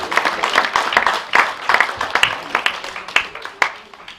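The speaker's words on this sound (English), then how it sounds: "Please give that woman a round of applause." An audience at a charity launch applauds, a dense spread of many hands clapping at moderate distance, steady and fairly loud for several seconds with no speech over it.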